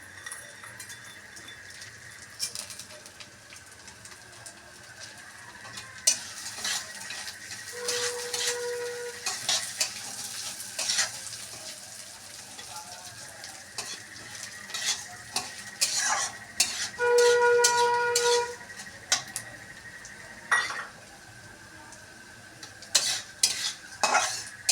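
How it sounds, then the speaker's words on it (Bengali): Moong dal fries in hot oil for a khichuri, a steady sizzle with repeated stirring, spoon scrapes and a few pot clinks, close and fairly quiet. "আমি মুগ ডালটাকে একটু ভেজে নেব"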